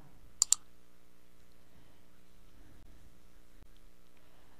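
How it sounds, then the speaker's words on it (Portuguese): Two quick, sharp mouse clicks close together near the start, pressing an install button in a Windows 10 setup, followed by a faint steady hum and near silence. "E vamos clicar em instalar."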